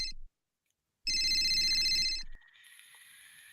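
A telephone rings in bright electronic bursts: a short chirp, a pause, then a long, loud trilling ring followed by a quieter, softer tone, with no voices.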